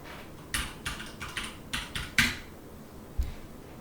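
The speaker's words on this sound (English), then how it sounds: "type in our password" Password being typed on a computer keyboard: about eight separate soft key clicks at an uneven pace, close and quiet, with a short pause before the last keystroke.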